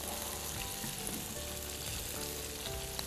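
Breaded monkfish pieces in an almond crust frying in a pan give a steady, dense sizzle that stays even and close throughout, with no talking.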